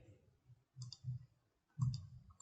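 Several light computer mouse clicks at close range, two quick click pairs separated by brief pauses, with faint low handling noise between them while working in Adobe Illustrator.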